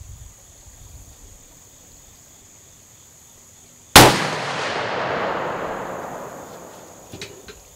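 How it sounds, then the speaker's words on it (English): A single sharp, loud CVA Scout V2 muzzleloader rifle shot fired at a 100-yard target outdoors, following a quiet stretch of faint insect buzz and ringing out with a long rolling decay. "we're going to go ahead and shoot for 100 yards, see where we're at on our target"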